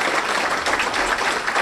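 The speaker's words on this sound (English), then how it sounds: "Dom, would you please stand and take some applause?" Brief burst of applause from a seated audience at a formal scouting award dinner, a dense continuous patter of hands clapping, fairly loud and close, with no voices over it.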